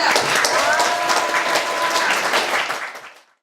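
A crowd applauds at the 2016 general meeting of delegates of a Gyeongnam parents' association. The clapping is dense and sustained, with some voices mixed in, then fades out at the end.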